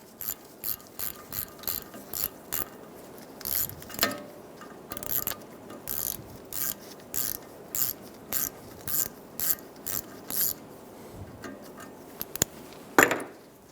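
Hand ratchet with a T30 bit backing out the backing plate bolts on a 2007-2011 Toyota Camry front hub, a steady series of crisp clicking strokes in short bursts, close and alone.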